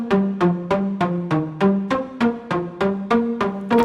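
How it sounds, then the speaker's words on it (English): A short melody played on a pizzicato strings synth preset, with about a dozen evenly spaced plucked notes stepping through a small range, each attack decaying quickly, clean and without any voice. "It's of a pizzicato strings"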